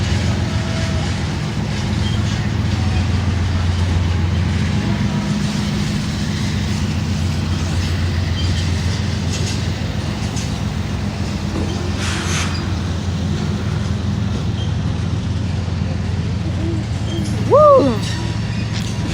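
A loud Norfolk Southern freight train heading toward Austell rumbles past close by, a steady heavy roar with rail clatter lasting throughout, and a brief horn-like tone near the end.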